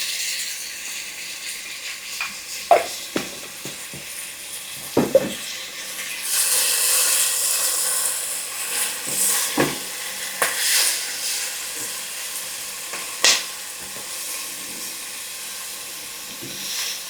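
Garlic and vegetables sauté in a pot for a one-pot Italian vegetable lentil soup, a continuous moderate sizzle and hiss broken by occasional stirring clatters and spoon knocks, with no talking.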